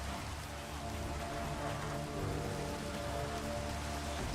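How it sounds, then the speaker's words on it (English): Steady rain falling in the video game Minecraft, a constant hiss of drops on surfaces holding at an even level throughout with no other sounds. "As a Californian, I feel like it rains more in Minecraft than reality."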